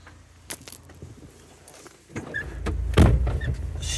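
Heavy door of an Alfa Romeo compact car swings and shuts with a solid, close thunk after a few light clicks and rustles inside the cabin.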